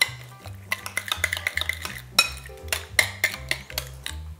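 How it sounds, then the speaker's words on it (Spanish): A chicken salad with vinaigrette and walnuts being tossed in a bowl. Utensils clink and scrape against the dish in quick, uneven taps over a low rhythmic background, close by and with no talking. "Lo mezclamos."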